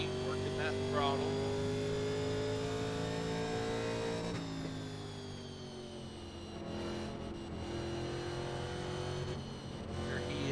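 A stock car engine in the iRacing game, racing at Rockingham, drones at high revs with a steady buzzing tone that shifts pitch as the throttle is worked, loud and continuous throughout.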